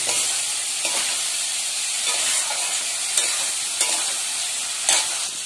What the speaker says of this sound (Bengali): ভেজে রাখা আলুগুলো দিয়ে দিলাম, এবার ভালো করে কষিয়ে নেব আলুগুলোর সঙ্গে মশলাগুলো কষিয়ে নেব